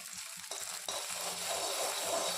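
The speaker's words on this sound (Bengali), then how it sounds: "এটা আগের ডিমটা আমরা একটু ভেজে নেব" An egg frying in a pan for a dhaba-style egg tadka gives off a steady, fairly quiet hiss of sizzling oil, with a couple of abrupt shifts as it is moved or turned.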